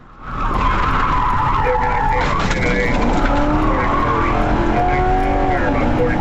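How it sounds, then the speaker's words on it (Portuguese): A car skids hard around a curve during a police chase, with long loud tire squeal and a roaring engine running continuously close by; voices are faintly audible underneath. "Na curva, o carro derrapou fortemente e a mulher quase não conseguiu contornar."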